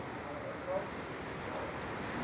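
Steady broadband surf washing on a tropical sea shore, a constant soft roar with light wind rumble and no distinct breaking crashes, continuous and moderately distant.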